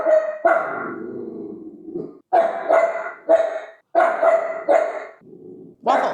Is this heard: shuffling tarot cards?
no